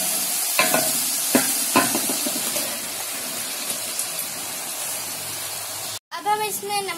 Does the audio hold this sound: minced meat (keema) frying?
yes